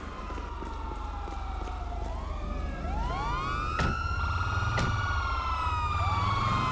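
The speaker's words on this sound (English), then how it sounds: "My siren is messed up and stuff." Several wailing police sirens in a video game sweep up and down in overlapping tones, with a couple of sharp knocks and a low engine rumble underneath.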